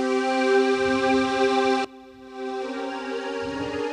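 Sustained synth pad chords played from a recording, smooth and steady with rich held tones, shifting to a new chord partway through, with no voices over the music.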